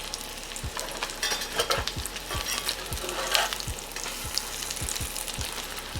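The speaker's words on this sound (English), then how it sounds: "we got a beautiful crust, we're gonna go ahead and flip them over" Flipped salmon cakes fry in a pan with a strong, steady sizzle, punctuated by regular soft low thumps and occasional spatula scrapes, close and loud, with no voices.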